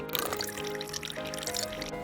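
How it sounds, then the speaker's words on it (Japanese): Water pours steadily into the tank of an ultrasonic cleaner for cleaning parts from a Sega Mark III paddle controller, a continuous close splashing gush for about two seconds. "超音波洗浄機、汚清水を入れます。"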